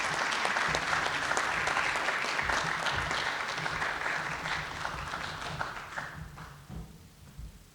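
An audience at a lecture welcomes the speaker with warm applause, a steady wash of many clapping hands that fades over the final seconds.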